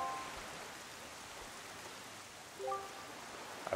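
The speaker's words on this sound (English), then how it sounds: "But this place suffers under dark clouds and rain" Steady rain falls on a cursed island in The Legend of Zelda: The Wind Waker, a soft constant hiss at low volume with a few faint tonal blips from the game.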